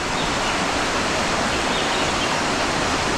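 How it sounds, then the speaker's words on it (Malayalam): The Chinnar river rushes through forest beside its bank in the Chinnar Wildlife Sanctuary, a close, steady, dense roar of flowing water with no voices. "നല്ല ആംബിയൻസ് കേട്ടോ. പുഴയുടെ സൈഡിൽ കാടിന് നടുക്ക് ചിന്നാറിൻ്റെ കരയിൽ അടിപൊളി."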